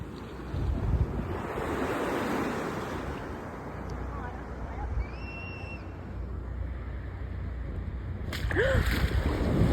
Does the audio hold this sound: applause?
no